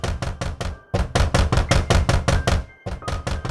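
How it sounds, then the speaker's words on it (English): Repeated loud knocking at a door in a stop-motion Macbeth scene, struck in rapid groups of heavy thuds with brief pauses between them, close and dry with no voices. "Here's a knocking indeed."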